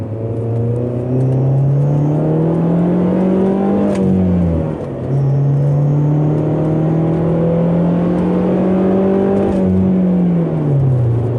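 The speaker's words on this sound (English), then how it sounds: "Now I'm merging onto a highway ramp, so I'm going to let the gears wind out a little bit more." A Saab with its muffler deleted accelerates up a highway on-ramp, the engine loud and close, revving up through the gears with two brief dips in pitch as it shifts, then climbing again, with no one talking.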